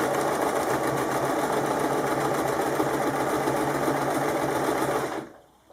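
A sewing machine stitches a kimono wrap top, running as a fast, steady mechanical hum and rattle close by for about five seconds before it stops abruptly.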